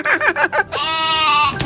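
A person imitates a goat, a few short choppy syllables followed by a sustained, wavering bleat, loud and close with no other sound.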